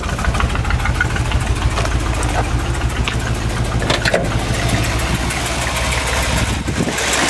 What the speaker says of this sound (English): this muffler here has a different sound than that one